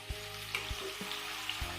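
Chopped red tomatoes dropped into a hot frying pan while cooking Punjabi-style rajma, giving a faint steady sizzle with a few soft stirring thumps at intervals, no voices.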